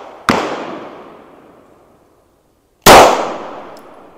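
Two sharp rifle shots from an AKS-74U Krinkov at an outdoor gun range, spaced a couple of seconds apart, each a loud close crack followed by a long fading echo.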